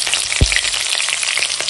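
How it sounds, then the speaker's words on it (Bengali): Nigella seeds and torn green chilies dropped into hot mustard oil in a wok, a loud, close, continuous sizzle and crackle with a soft thump as they go in. "তেল হয়ে গেছে গরম এখন দিয়ে দেব কালো জিরে ফোড়নে দিলাম আর দেবো ছেঁড়া কাঁচা লঙ্কা"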